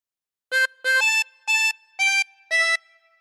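Tremolo harmonica with 16 holes plays a short Ten Green Bottles phrase: six crisp, evenly spaced reed notes, the first two repeated and the rest stepping through different pitches with a bright wavering buzz, close up with no voices.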